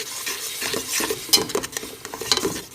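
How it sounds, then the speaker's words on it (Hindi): Spices being fried and stirred in a metal pot for peas pulao: a soft sizzle under repeated scraping and clinks of a spoon against the pot, close and fairly loud, no speech. "सारे मसाले डालने के बाद अच्छी तरह से मसाले को भून लें।"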